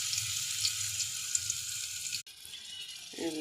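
Onions sizzle in hot oil in a cooking pot, a soft continuous frying hiss that breaks off briefly near the end before resuming faintly.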